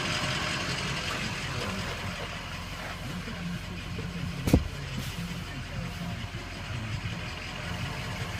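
A 2004 Ford F350 6.0 diesel pickup engine idles steadily with a low, continuous rumble, broken once by a brief sharp knock midway.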